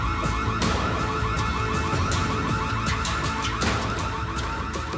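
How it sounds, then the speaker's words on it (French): A house burglar alarm rings loud and unbroken, its electronic tone warbling and pulsing in a steady repeating pattern for the whole stretch with no voices. "l'alarme de la maison se met en route"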